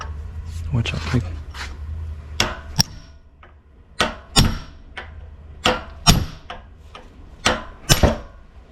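A hammer strikes a metal punch while a high-pressure fuel pump is being replaced on a Mercedes/Dodge Sprinter van. About ten sharp, loud blows come in irregular pairs and singles, with a voice speaking briefly at the start.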